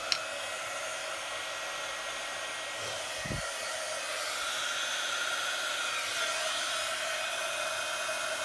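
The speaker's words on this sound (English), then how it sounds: "we'll just get my heat tool and get that sorted" An embossing heat gun blows in a constant whooshing roar that runs steadily the whole time, with a faint click at the start and a soft thud partway through.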